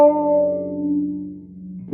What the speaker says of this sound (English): it's of course going to be a little chorus to detune it